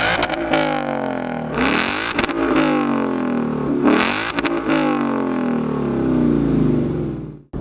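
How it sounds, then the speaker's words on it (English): 2015 Ford Mustang GT V8 on Roush axleback exhausts, close and loud, with two long throttle revs that climb and fall back, the engine rumbling steadily between them. "he actually threw on some Roush axlebacks, and it gives this car a great tone"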